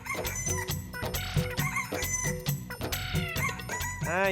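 Several free-range country chickens cluck steadily and close by near cotton fields, with a rooster crowing near the end.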